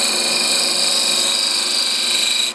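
Steady high-pitched hiss and scrape of a turning tool cutting into the end of a wood piece spinning on a lathe, continuous and close for a few seconds with no talk.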